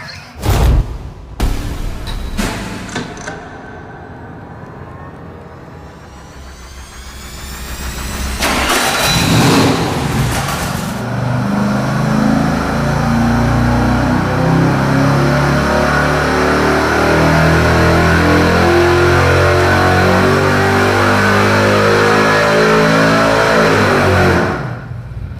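Engine on a dyno being compared with different exhaust header sizes: it cranks and starts with sharp bursts, settles briefly, then revs hard and holds a loud, sustained run before cutting off at the end.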